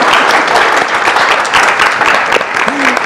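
A live audience applauds a translator at a French-language music event, steady dense clapping filling the whole stretch with a brief voice-like tone near the end.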